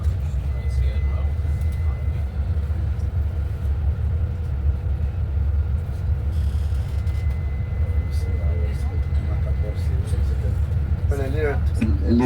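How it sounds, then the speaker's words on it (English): Road traffic on a street in Panama near lunch hour rumbles low and steady, with engines droning and a vehicle passing nearby as people talk over it. "A little traffic because it's"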